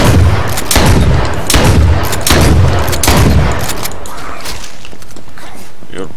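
Shotgun blasts aimed at a zombie in the video game H1Z1, a run of loud, close booming shots in quick succession over the first few seconds, then a quieter tail of game ambience.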